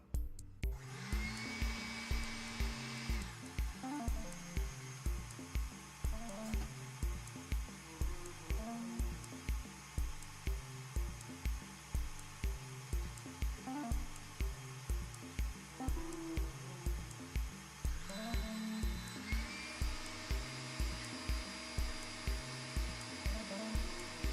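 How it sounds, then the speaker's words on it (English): A hand mixer with a whisk attachment whirs continuously, beating a keto frosty mixture toward stiff peaks, its motor pitch shifting slightly as the speed changes, close and steady with no voices. "You can use a hand mixer with the whisk attachment or the stand mixer"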